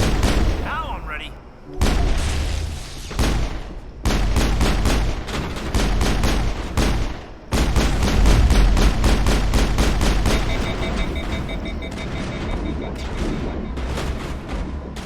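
Rapid bursts of gunfire from a Mass Effect shooter, loud and dense with repeated volleys and short pauses, booming impacts layered over the weapon reports throughout.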